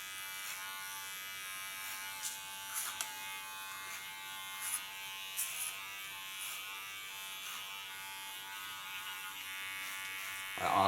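Electric hair clipper buzzing steadily while shaving a tattoo design into the nape of a woman's neck, close and continuous, with brief louder surges as the blades press along the contour lines.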